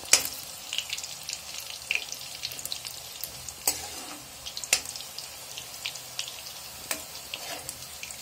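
Aloo badi fry in a pan toward golden brown, crackling with sharp pops and bursts over a low, steady sizzle, close and fairly quiet.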